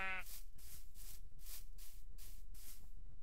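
A Minecraft sheep bleats over and over in a steady rhythm, about six short wavering cries evenly spaced, close and alone.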